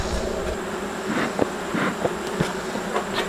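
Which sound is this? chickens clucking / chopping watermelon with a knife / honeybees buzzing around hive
honeybees buzzing around hive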